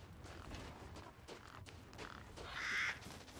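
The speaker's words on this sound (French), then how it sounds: "Il y a des petits corbeaux." Crows caw in the game Resident Evil Village, one harsh call rising clearly near the end over a steady, noisy ambient background with no talking.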